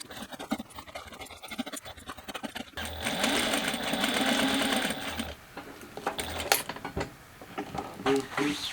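A sewing machine stitches a seam around a vinyl bag gusset, its motor whirring steadily for a few seconds amid scratchy handling of the material, with quieter rustling and brief bumps before and after.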